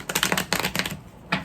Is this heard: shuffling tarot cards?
yes